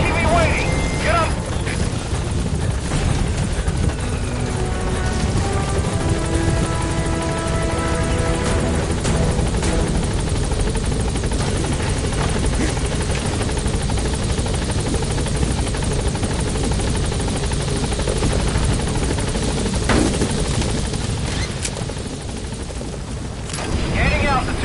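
The Pequod helicopter in the video game Metal Gear Solid V flies with a steady, loud rotor drone throughout, under in-game radio voices and bursts of distant gunfire.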